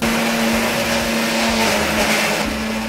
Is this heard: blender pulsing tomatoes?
yes